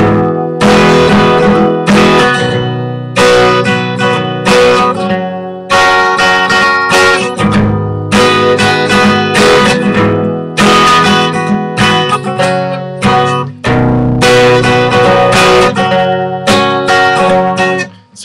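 An acoustic guitar strums the chords of a song, loud and close, with full rhythmic strums in repeating phrases and no voice.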